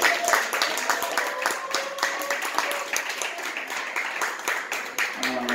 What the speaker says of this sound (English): Another round of applause for Black Rain.